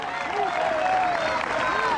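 A crowd at an outdoor church event in a park applauds in a dense, sustained wash of clapping, with voices and speech mixed over it throughout.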